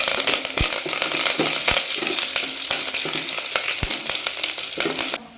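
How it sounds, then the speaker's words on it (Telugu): Garlic sizzles in hot oil in a pan for a South Indian sambar, a loud, close, continuous crackling fry broken by spoon scrapes and stirring knocks, then cut off abruptly near the end. "వెల్లుల్లి వేసి 1 నిమిషం పాటు వెల్లుల్లి బాగా వేగనివ్వాలి"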